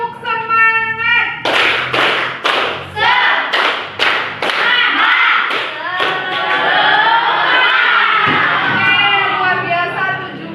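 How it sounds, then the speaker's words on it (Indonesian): A grade 7B school class claps three times in unison for encouragement, crisp rhythmic claps in quick succession, then breaks into loud cheering and shouting voices that continue to the end. "3 kali tepuk semangat."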